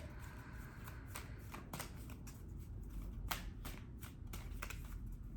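Oracle cards are shuffled by hand in a series of quick riffling bursts, soft and close, repeating irregularly over several seconds with no voices.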